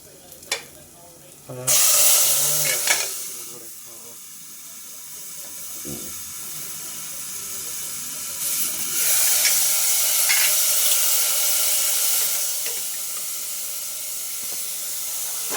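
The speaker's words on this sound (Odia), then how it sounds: "ହଁ ଛୁଙ୍କ ଦେବା।" Spices tempering (chhunk) in hot oil for an Odia santula dish, a loud, steady hiss and sizzle that surges twice, with occasional stirring clinks and faint voices underneath.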